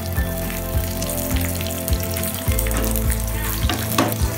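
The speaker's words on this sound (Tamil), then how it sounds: "ஒரு குட்டி பேனில் கொஞ்சமாக எண்ணெய் விட்டு ஒரு முட்டை உடச்சி ஊற்றிட்டு" An egg cracked into a small pan with a little oil fries with a steady, close sizzle and crackle, broken by soft periodic taps throughout.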